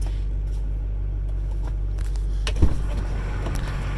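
A 2006 Duramax diesel truck engine idles with a steady low rumble, fitted with a muffler and an exhaust tune switch, holding a constant drone with a brief louder surge partway through.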